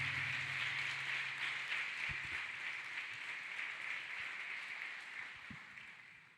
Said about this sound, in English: Let us clap hands for Jesus Christ.